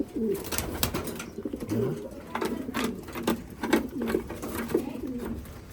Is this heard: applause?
no